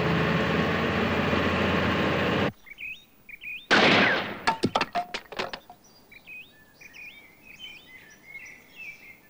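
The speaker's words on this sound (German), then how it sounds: "Das war ein herrlicher Schuss." A cartoon hunting rifle fires in a royal forest during a hunt: a loud burst cuts off a rushing noise, followed by a rapid string of sharp cracks and echoes, with bird chirps afterward.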